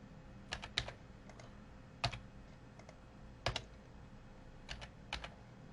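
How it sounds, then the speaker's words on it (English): Computer keyboard typing during a structural engineering class example, sparse clusters of quiet key clicks separated by pauses, close and faint against a low room hum. "So we're better off just typing it."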